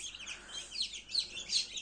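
Soft, high-pitched peeping of chicks in an incubator repeats steadily, faint and close, with no talking.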